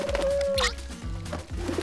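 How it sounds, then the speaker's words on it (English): Pigeons cooing in an animated cartoon scene, a few soft rhythmic low coos repeated close by, with a brief higher squeak in the middle. "These pigeons are crazy!"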